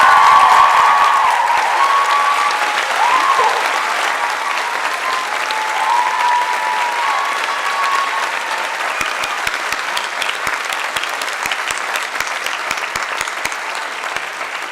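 Large audience at a college commencement ceremony applauding, sustained loud clapping from a big crowd that rolls on steadily and gradually thins toward the end, with a few brief voices mixed in early.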